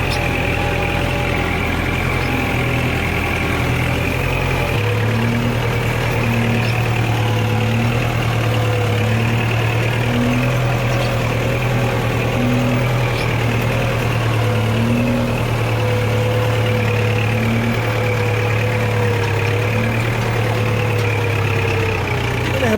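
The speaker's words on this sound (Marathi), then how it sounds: "एका मित्रात तर नांगरट चालू आहे" A tractor engine ploughing a field drones steadily and loudly at close range, a low rhythmic chugging that holds for the whole stretch.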